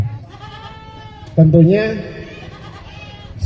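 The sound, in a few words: PE Kaligesing goats bleating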